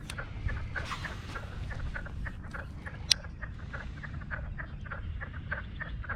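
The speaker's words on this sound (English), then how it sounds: "You guys hear those peepers right now?" A chorus of spring peeper frogs in Delaware in early spring, many shrill peeps repeating rapidly and overlapping, steady and moderately distant over low outdoor rumble.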